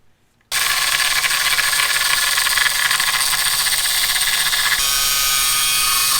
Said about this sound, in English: an angle grinder would work, just as I am doing